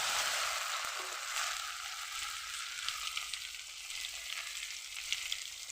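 Taro pieces and a katla fish head fry in a pan with bay leaves and ground cumin, ginger and pepper, hissing in a continuous close sizzle with faint scraping stirs and small pops, and no voices.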